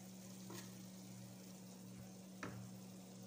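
Fried chicken reheating in a pan with Indomie noodles gives a soft steady sizzle under a low hum, with a few faint scraping stirs.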